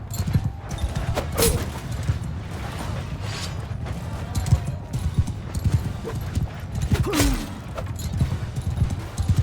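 Horse hooves clip-clop steadily in a Mount & Blade II Bannerlord battle, mixed with a busy din of fighting, clanks and low rumble throughout.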